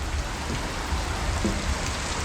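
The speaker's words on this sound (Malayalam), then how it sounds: "അവിടെ നിന്ന് നല്ല മഴ പെയ്യുന്നുണ്ട് കോരിച്ചെരിയുന്ന മഴയാണ്" Dense, heavy downpour roars steadily with no pauses at a waterfall, a thick wash of noise close around the listener.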